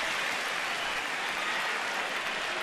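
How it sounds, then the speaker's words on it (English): A ballpark crowd at a Milwaukee at Washington baseball game applauds and cheers for pitcher Gio Gonzalez, a dense, steady wash of clapping heard from within the stands, continuous and moderately loud. "The crowd's cheering right now."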